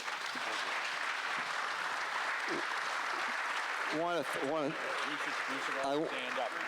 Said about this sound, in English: a big round of applause for our panelists, please